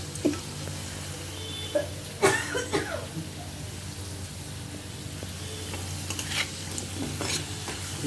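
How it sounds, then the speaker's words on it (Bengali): Onions frying in a pan give a steady sizzle throughout, with a few sharper scraping stirs near the start and occasional clinks, all without any talk. "একদম সুন্দর ভাজা হয়ে গেছে"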